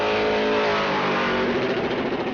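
A Pro Late Model stock car's engine roars loudly and steadily at full throttle during qualifying at New Smyrna, its harmonic drone shifting slightly in pitch as it passes close by.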